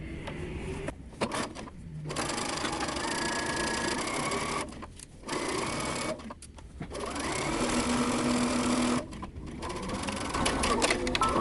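A sewing machine stitches a side seam joining two T-shirts into a dress, running in loud steady buzzing bursts separated by short pauses, close up and without talking.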